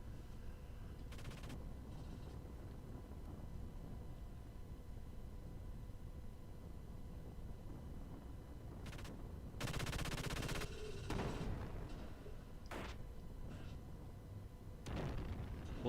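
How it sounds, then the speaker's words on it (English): Mechs fire machine guns in the PS1 game Xenogears, in Lahan Village, a steady low rumble of gunfire with sharper bursts and blasts near the end, loud and with no voices over it. "now you just stand here while these big mechs are shooting machine guns all around the place"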